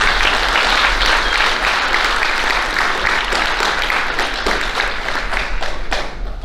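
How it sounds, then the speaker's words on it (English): A banquet audience gives a sustained round of clapping at a high school athletic banquet, loud and dense throughout and tapering slightly at the end. "So let's give them all one more round of applause."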